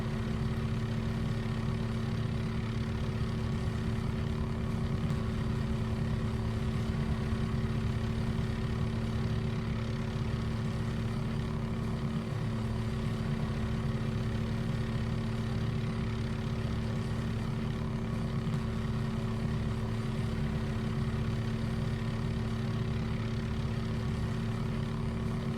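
Simulated OH-6A Cayuse helicopter in MSFS 2024 runs its turbine engine and rotor steadily, a constant droning hum with a pulsing low rotor beat, unchanged and uninterrupted for the whole stretch.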